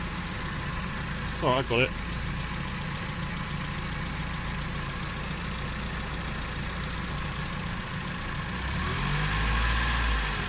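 A Nissan Micra K11 engine idles with a steady hum, then revs up in a rising surge near the end. Someone speaks briefly over it early on.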